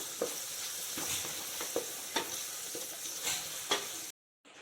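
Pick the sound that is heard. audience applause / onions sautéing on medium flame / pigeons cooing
onions sautéing on medium flame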